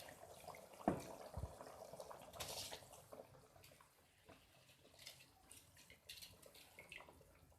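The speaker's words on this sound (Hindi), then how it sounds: "पानी हमारा उबल चुका है। अब इसमें चावल डालेंगे।" Rice tipped into a pot of boiling water for aloo matar pulao, with a splashy pour and scattered clatter followed by soft bubbling and occasional drips, close and fairly quiet, no talk.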